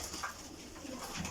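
Several pigeons coo in a loft of Parwazi flying pigeons in Sari Alamgir, Jhelum. The calls are faint and low, and soft chirps mix into a steady ambient background.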